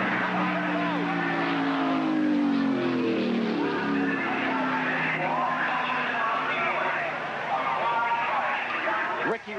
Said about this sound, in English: Ricky Rudd slamming toward the wall. Crashing, rolling over